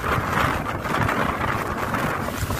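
Strong wind buffets the microphone outdoors by the sea in Zambales, a loud, continuous roar that holds steady across the whole stretch with no voices.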